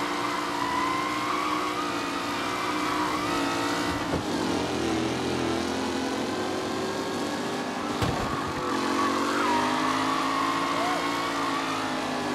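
Race cars speed through the final lap in Mafia Definitive Edition. Loud, continuous engine drones rise and fall in pitch, with two brief dips where the sound drops out.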